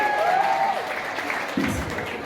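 Audience applause greets a singer at a hotel performance in Winterberg. Steady, fairly dense clapping fills the room, with a voice briefly heard over it near the end.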